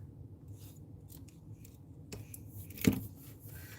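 Scissors snipping through burlap ribbon while shaping the tails of a handmade bow, one sharp close cut standing out over a faint rustle of fabric, with no talking.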